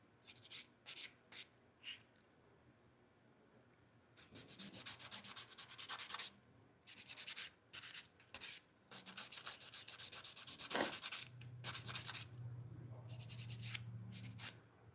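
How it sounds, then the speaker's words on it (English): A nail file rasps against fingernails in repeated short bursts of scraping strokes, pausing between passes, then longer continuous filing with a low hum beneath near the end. "sometimes I end up filing the other one again because I could get it a little tighter"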